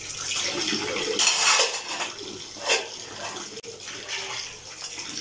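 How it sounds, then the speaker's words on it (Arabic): Dishes and cutlery clatter in a sink with running water, a steady wash of splashing broken by occasional clinks and scrapes, no voices. "خلص المواعين دي يا حبايبي"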